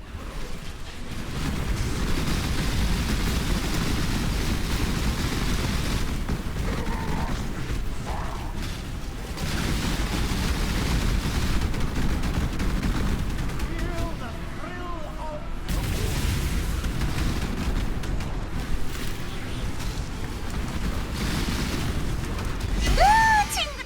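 Path of Exile bombardment mines go off in a steady barrage of heavy booms and bursts, loud and continuous, under a constant rumble of game effects.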